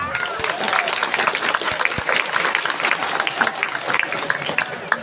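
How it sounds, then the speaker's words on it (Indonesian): An audience at an Islamic New Year commemoration gathering applauds, a steady dense clatter of many hands with a few louder claps standing out and some voices mixed in. "Tepuk tangan dulu dong."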